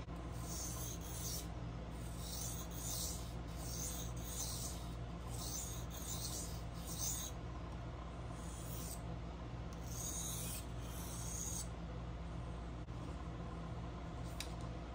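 A knife blade is drawn repeatedly across an oiled sharpener, producing soft rhythmic rasping strokes in groups over a steady low background hum, close and fairly quiet.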